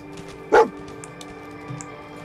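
One sharp, close bark from a dog in the game Fallout 4, standing out once against a steady low game background hum, with a faint softer sound near the end.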